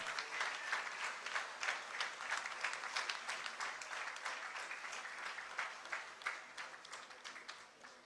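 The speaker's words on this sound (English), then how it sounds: "may I request you appreciate their achievements with a thunderous round of applause" A school annual day audience gives a sustained round of applause, with steady, dense clapping from many hands that holds for the whole stretch, recorded from a distance in a hall.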